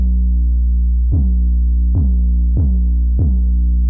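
Deep 808 bass played through a subwoofer, a low continuous droning tone with four punchy pitch-dropping hits at uneven intervals, loud and alone.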